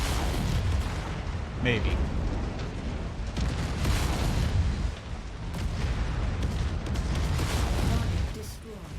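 Heavy weapons from battle mechs pound a tank in MechWarrior 5: Mercenaries, a dense roar of booming blasts and rumbling explosions running almost nonstop at close range, with a brief voice over the din.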